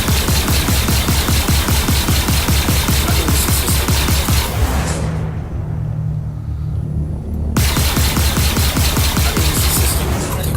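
Rapid, continuous bursts of laser fire from four gimbaled laser cannons on a Constellation Andromeda ship in Star Citizen, loud and close, cutting out briefly to a low hum before resuming.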